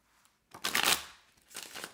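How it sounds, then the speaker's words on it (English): Tarot cards being shuffled in two quick, close riffling bursts, crisp and soft, separated by a brief pause. "One more shuffle."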